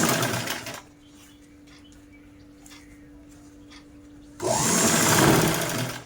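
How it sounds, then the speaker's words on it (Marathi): A sewing machine stitches a zipper and strip onto cloth in two loud, fast whirring bursts, one at the start and one near the end, with a quiet pause and a faint hum between. "आणि हे सोबतच आपण स्टिच करून घेऊ"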